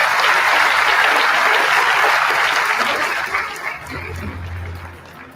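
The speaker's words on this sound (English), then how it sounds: "Round of applause for time." Enthusiastic audience applause, loud and dense at first, gradually thinning and fading out toward the end.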